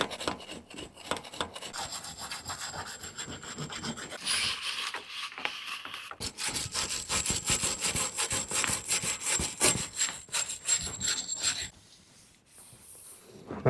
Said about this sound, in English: Still plenty of rubbing down to do though.